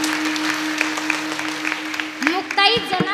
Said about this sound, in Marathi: त्यांच्यासाठी जोरदार टाळी वाजवा